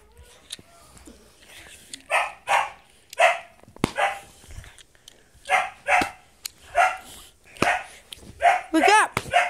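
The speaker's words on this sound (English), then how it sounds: "my dog's barking" A dog barks indoors in a steady series of about a dozen sharp barks with short gaps, ending in a few whiny yips, while a person speaks now and then.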